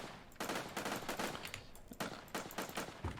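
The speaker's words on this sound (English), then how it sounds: "we've got burst fire for this one as well" Burst fire from a prototype weapon in a video game, repeated short volleys of shots in quick clusters separated by brief gaps, fairly faint overall.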